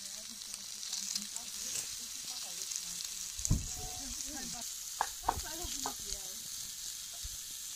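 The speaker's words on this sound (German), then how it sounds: "Dazu machen wir uns noch einen guten Speck hier." Bacon fries outdoors with a soft, steady sizzle. A few clinks and knocks from cookware cut through, and faint voices murmur in the background.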